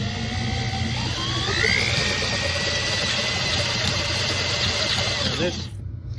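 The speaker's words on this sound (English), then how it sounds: "So you just start drilling once it's in there" A power drill whirs steadily and close by while knurling a prop baton, its motor droning without a break before cutting off abruptly near the end.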